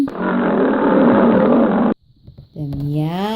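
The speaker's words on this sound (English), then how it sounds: "We have the roaring lion," A lion gives one loud, sustained roar lasting nearly two seconds, then cuts off to a brief quiet before a voice begins speaking.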